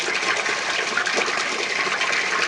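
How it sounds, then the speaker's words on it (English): A toilet's top tank flushes with a steady, close rush of gushing and filling water that holds even and loud throughout. "there's the top tank just beginning to flush"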